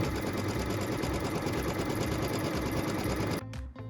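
A sewing machine runs steadily, stitching the placement line on a maple leaf quilt block, a continuous close whirring that stops abruptly near the end.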